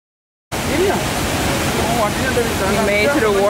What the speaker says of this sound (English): Here goes the waterfall.